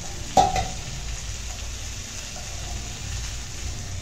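Chicken drumsticks sizzle steadily in oil inside a covered pan, a soft even crackle that runs throughout with one small clink near the start.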